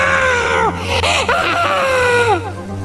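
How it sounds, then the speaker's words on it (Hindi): A witch screams in a Hindi cartoon horror story, a loud, wavering high shriek with falling pitch sweeps, repeated in several bursts over a steady low hum. "उस चुड़ैल ने फिर से चिल्लाना शुरू कर दिया।"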